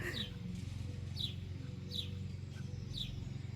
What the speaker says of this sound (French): Je vous laisse écouter le chant des oiseaux avec moi.